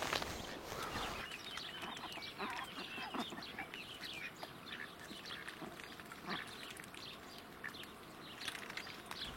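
Ducks quacking in a vegetable garden near a pond, calls scattered and fairly close over steady outdoor background noise, with no talking.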